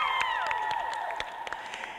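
Class of 2011 seniors gathered in a new school field house clap and cheer, a dense patter of applause with a few sharp individual claps standing out, moderately distant and fading slightly.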